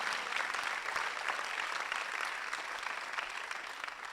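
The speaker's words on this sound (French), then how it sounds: "Let's give a clap offering unto the Lord." A church congregation claps together in a sustained round of applause offered as praise, a dense, even wash of many hands close by that holds steady for several seconds.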